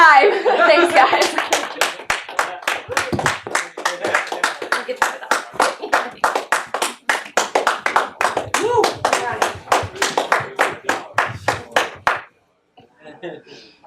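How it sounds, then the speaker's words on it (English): One person claps alone after a live comedy set, a string of sharp, evenly spaced hand claps that speeds up slightly before stopping, with a little speech and laughter around it. "One person clapping."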